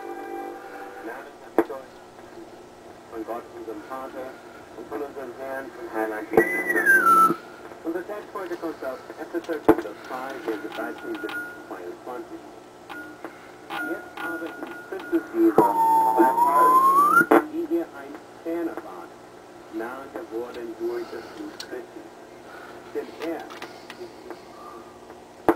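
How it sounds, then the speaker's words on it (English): A vintage Radiola 20 radio being tuned between stations, with broadcast voices drifting in and out and whistling heterodyne tones sweeping up and down as the dial moves. "It's a tricky radio to tune."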